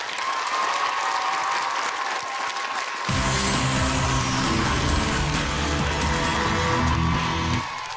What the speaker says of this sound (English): but give them a round of applause anyway.